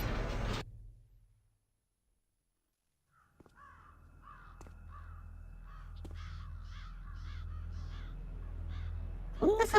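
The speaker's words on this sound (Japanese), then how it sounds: "こんな寒いところでカラスは活動できないでしょ。" Crows caw in a rhythmic series of calls in Metal Gear Solid: The Twin Snakes on GameCube, set against a low steady game hum after a brief silence, moderately faint, no talk.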